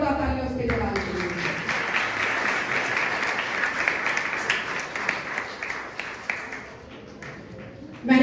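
A church congregation breaks into loud applause during a sermon, a dense sustained clatter of clapping that fades slightly toward the end, with a voice heard over it at the start.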